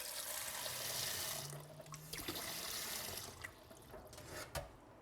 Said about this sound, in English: fill with cold water so that it covers up to the top of the ham